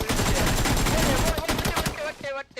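Battlegrounds gameplay gunfire crackles in dense, rapid volleys of overlapping shots that fill the first half and then thin out, with a voice talking excitedly over the action.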